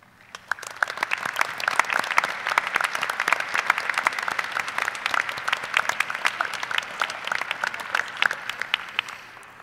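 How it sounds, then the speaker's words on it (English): An audience applauds at a university commencement ceremony, individual claps distinct within a steady, moderately large crowd, rising quickly after a quiet start and continuing evenly to the end. "please stand and accept our applause for their service this afternoon"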